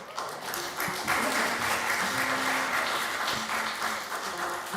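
A congregation at a Shabbat evening service applauds a couple's 68 years of marriage, with dense sustained clapping from many hands filling the room, and a few faint voices mixed in underneath.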